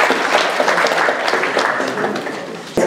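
Audience applause at a community gathering honoring elders in Araya district: a steady wash of clapping from many hands that carries on for nearly three seconds and stops abruptly.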